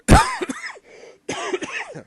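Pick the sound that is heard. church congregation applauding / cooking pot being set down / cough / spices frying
cough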